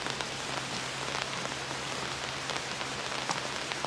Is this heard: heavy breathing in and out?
no